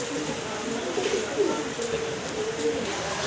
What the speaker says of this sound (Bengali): একদম টকটকা লাল কালারের একজোড়া জ্যাকোবিন কবুতর, দেখার মতো সুন্দর